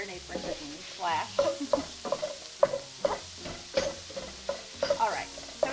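Sausage frying in a pan while a utensil stirs and breaks it up, a steady sizzle under repeated scraping strokes against the pan, close and moderately loud, no talking.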